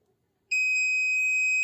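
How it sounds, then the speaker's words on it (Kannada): A digital multimeter in continuity mode, probes held across a fuse, gives a sudden, steady high-pitched electronic beep that starts abruptly after a brief silence and holds unbroken. "ಫ್ಯೂಸ್ ಸರಿ ಇದ್ರೆ ನಿಮಗೆ ಬೀಪ್ ಸಿಗ್ತದೆ, ಮತ್ತು ಫ್ಯೂಸ್ ಬ್ಲೋ ಆಗಿದ್ರೆ ಬೀಪ್ ಸೌಂಡ್ ಬರಲ್ಲ."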